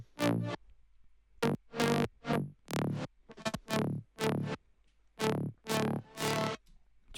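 Stacked synth tones play a series of sustained chords in harmony, each swelling and cutting off with brief gaps, bright and full, no voices.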